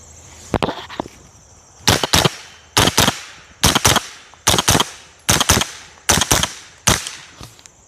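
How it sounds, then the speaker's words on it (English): A Matador Arms Mat9k pistol-caliber firearm fires its last rounds outdoors, about eight sharp loud shots spaced roughly a second apart, some in quick doubles, each with a brief echoing tail. "I'm going to finish shooting the last few rounds through this guy"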